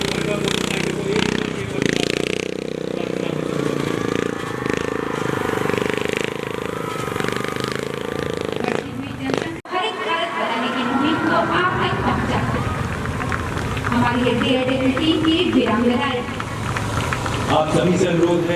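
A motorcycle engine runs at an SSB Raising Day display, a loud continuous roar with shifting revs. An announcer talks over it through a public address system throughout.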